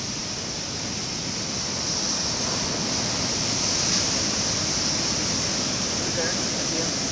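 Big hurricane Sandy surf rolls and crashes at Flagler Beach, a steady broad roar of breaking waves filling the whole stretch with no letup.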